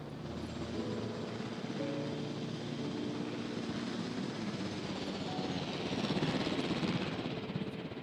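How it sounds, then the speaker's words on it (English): A helicopter returns in Jurassic World Evolution, its broad rumbling rotor and engine noise constant and close, growing slightly louder toward the end with no talk over it. "Here's our helicopter coming back."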